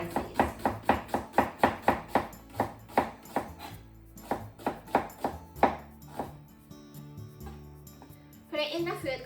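A kitchen knife slices a vegetable into thin slices on a cutting board, striking in a quick, even rhythm of crisp, close taps with a ringing tone, slowing slightly before a voice briefly speaks at the end.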